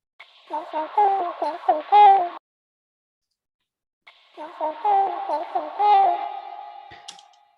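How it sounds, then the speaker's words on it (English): A voice processed with hard auto-tune in C minor gives a robotic, stepped, sequenced melody in two short phrases separated by a gap of silence, clear and upfront. "I completely made it hard auto tuning"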